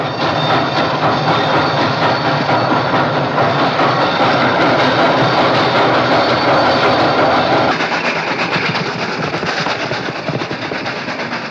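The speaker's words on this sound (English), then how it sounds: "You got 5 seconds to get this engine going." Western-era steam train pulling out, a loud close continuous rumble and rapid chuffing with rattling wagons, easing slightly toward the end.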